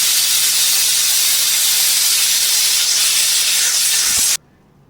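A loud, steady hissing whistle of a pressure cooker venting steam while cooking chicken curry, continuous for several seconds before cutting off abruptly into near silence.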